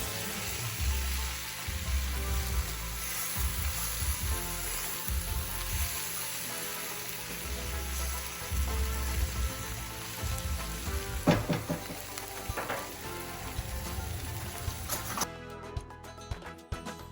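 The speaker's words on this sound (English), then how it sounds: "I want a little bit of char on the veggies just like the restaurant. So I'm going to let them go for another 10 minutes." Fajita vegetables frying in a pan, sizzling steadily and loudly throughout with occasional stirring clatter, left to char for restaurant-style blackened edges.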